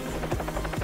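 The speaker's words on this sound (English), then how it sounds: "I'm going to turn on the helicopter noise." Low rhythmic helicopter rotor thumping, played as a sound effect during a prank phone call, steady and fairly loud with a quick regular chop and no talk.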